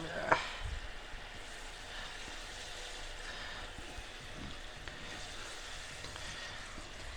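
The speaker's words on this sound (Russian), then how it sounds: "Готовим картошечку. Обжариваем." Potatoes fry in a pan with a steady, soft sizzle that carries on throughout, close and fairly quiet, with a small clatter near the start.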